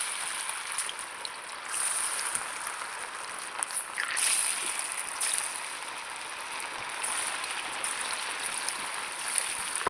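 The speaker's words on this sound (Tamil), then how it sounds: "இப்போ ஒவ்வொரு சிக்கனாக போட்டு பொரித்து எடுத்துடலாம்." Chicken 65 pieces sizzling in hot oil in a pan, with a steady hissing crackle throughout and a few louder pops and spits.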